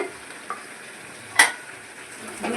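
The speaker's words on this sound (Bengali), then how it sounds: "তারপরে চিংড়ি মাছটা ভেজে রেখেছিলাম সেইটা দিয়ে দেবো এর মধ্যে" Fried prawns go into a pan and get stirred, with a low sizzle under a few spatula scrapes and one sharp clack midway, close and fairly quiet with no talk.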